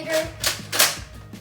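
A Nerf Sharpfire toy blaster fires, giving a few sharp, close, snappy pops spaced a fraction of a second apart, with no one talking.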